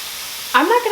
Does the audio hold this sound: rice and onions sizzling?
yes